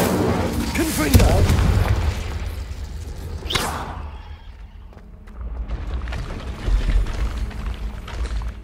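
The Confringo spell from Hogwarts Legacy fires with a swooshing launch and a booming blast, followed by a second whooshing burst and crackling debris fading out, all under game sound.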